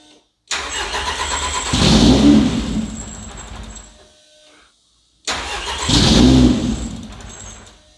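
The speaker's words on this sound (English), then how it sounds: "It may or may not fire up, we'll find out." Car engine run by a Speeduino ECU, untimed and with a squeaky belt, cranks and catches twice, each start rising into a loud close revving burst before settling, with a short silence between attempts.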